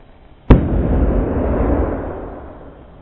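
A single loud bang from an ignited hydrogen-filled balloon bursting, followed by a roaring, rumbling tail that slowly fades over a couple of seconds.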